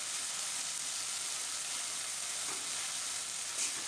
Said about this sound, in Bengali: এবার দিয়ে দিচ্ছি এখানে যে পালং পেস্টটা করে রেখেছিলাম সেটা দিয়ে দিচ্ছি, মশলার সাথে মিশিয়ে নিলাম